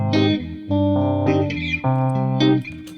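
Organ sample blended with an electric guitar, playing sustained chords in short sections with brief gaps, close and loud, with no voices.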